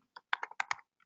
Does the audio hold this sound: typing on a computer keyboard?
yes